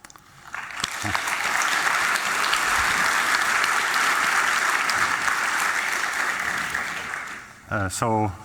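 Audience applause welcoming an invited speaker at the Eurocrypt 2024 cryptography conference: a large crowd claps steadily and densely for about seven seconds, then fades as a voice begins speaking.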